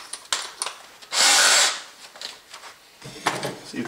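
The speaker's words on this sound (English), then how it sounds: "I'm gonna switch to this drill and see if it's sharper" A power drill whirs in a loud, steady burst lasting under a second, with scraping and rubbing sounds before and after.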